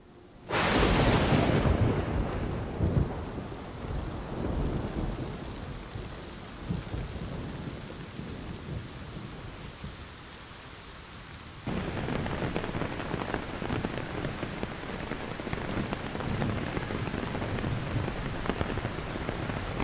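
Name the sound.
rain and thunder sound effect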